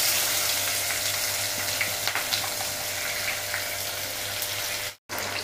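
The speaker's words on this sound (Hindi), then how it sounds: "जो मैंने प्याज और लहसुन और मिर्च अदरक को सबको चॉप किया था, मैं उसको इसमें डाल दूंगी तेल में" Chopped onion, garlic, chili and ginger sizzle in hot oil, a constant dense hiss with faint crackles, steady and close, cutting out briefly near the end; no one speaks.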